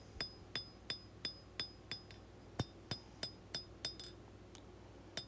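Hammer blows on a hot knife point forged from old leaf spring steel, ringing metallic strikes at an even pace, about fifteen in a row, slightly distant and fairly faint.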